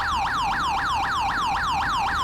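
A British police siren in the video game GTA 5 sweeps up and down in quick, regular cycles, loud and continuous, with a synthetic, game-like tone and a low rumble beneath.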